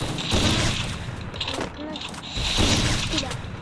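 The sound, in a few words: gunshots in a video game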